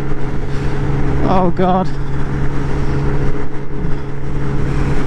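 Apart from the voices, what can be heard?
Lexmoto SRT 125cc scooter riding on motorway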